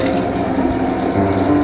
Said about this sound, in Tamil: ஜார் அலசி கொஞ்சம் தண்ணி ஆட் பண்ணிக்கோங்க